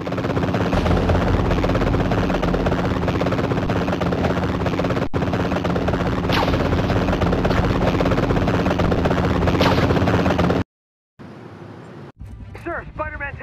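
Black helicopters in the Spider-Man 3 video game on PSP give a loud, steady rotor drone that runs unbroken for about ten seconds before cutting out into brief quiet and other game sounds.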